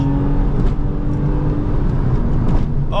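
A 2007 Porsche 911 Targa 4 in second gear at full power, its intake roaring loud and steady from inside the cabin with no pause.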